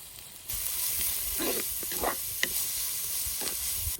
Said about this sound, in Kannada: ಈಗ ಈರುಳ್ಳಿ ಚಂದ ಮಾಡಿ ಫ್ರೈ ಆಯಿತು